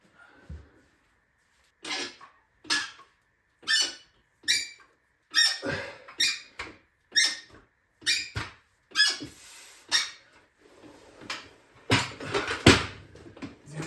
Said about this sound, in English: Bench sounds like a dying dog or something.